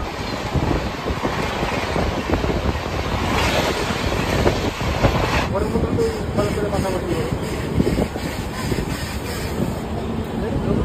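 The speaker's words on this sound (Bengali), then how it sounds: "আমাদের ট্রেন এই জলেশ্বরে ঢোকার কথা ছিল হচ্ছে 9:48-এ, কিন্তু ঢুকলো হচ্ছে 10:28-এ" Passenger train on the Kolkata to Puri route rolling through Jaleswar, a loud continuous rumble with rhythmic clatter from inside the carriage, steady the whole time, with a change in tone partway through.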